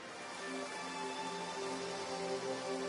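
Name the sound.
rain falling in the video game Darkside Detective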